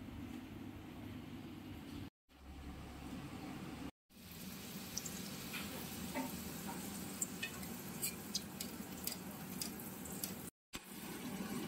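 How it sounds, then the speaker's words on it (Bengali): Hing kachori frying in a pan for a Bengali lunch, a steady low sizzle with stirring scrapes running throughout, briefly cut by a few short silent gaps. "হিঙের কচুরি ভাজা চলছে"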